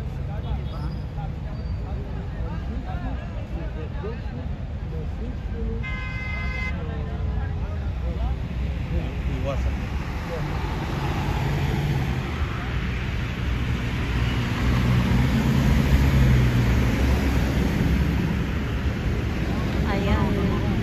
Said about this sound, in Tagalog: Ayan, daming sasakyan. Ayan ang bus.